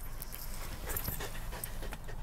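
Dogs panting steadily and close by at a dog park, with rapid rhythmic breaths over a busy outdoor background.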